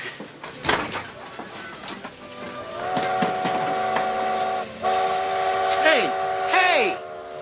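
A train sounds its horn in long tonal blasts over rumbling rail noise, with people talking at times.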